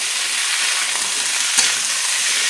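Pumpkin and papaya pieces fry lightly in hot oil in a pan, giving a steady, close, dense sizzle throughout with one brief louder crackle partway through.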